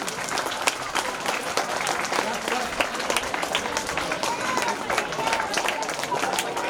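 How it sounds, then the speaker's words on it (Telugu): Boys and girls at a government school in Yadagiripally clap together, giving sustained crowd applause at a moderate distance, mixed with faint background chatter. "బాయ్స్ అండ్ గర్ల్స్ క్లాప్స్ ఆపమని చెప్పలే నేను"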